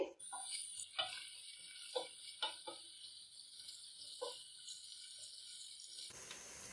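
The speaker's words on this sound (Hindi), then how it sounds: "प्याज को हम हल्का सा सॉफ्ट करेंगे।" Roughly chopped medium onions softening in hot oil give a steady light sizzle with a few clinks and scrapes from stirring, close by, then cut off near the end; no one talks.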